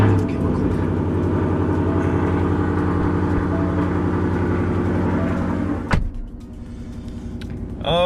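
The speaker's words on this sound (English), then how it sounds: "and let's start up that Corsa Extreme exhaust" Lifted Ford F150 with a 5.0 V8 and Corsa Extreme exhaust, running as a loud, steady low engine drone close by for about six seconds before cutting to a quieter rumble, with a sharp thump at the transition.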